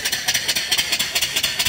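A steam engine boiler vents steam in a fast, rhythmic series of loud hissing puffs, roughly five per second, steady and close with no talking.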